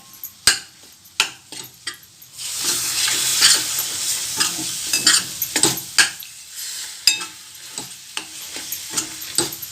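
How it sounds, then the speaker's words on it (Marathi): A spoon stirs besan and milk in a pan while making besan laddu, with soft sizzling underneath, sharp scrapes and clinks against the metal pan, and bursts of stirring at an uneven rhythm, with no talking. "जेवढं पाहिजे तेवढं दूध घालून घ्यायचं आणि चांगलं हलवून घ्यायचं"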